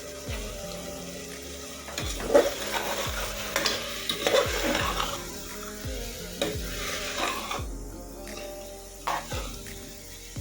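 Chicken biryani masala frying in oil in a pan, with steady sizzling and repeated stirring scrapes and clinks of a utensil against the pan, close and moderately loud throughout, with no talking.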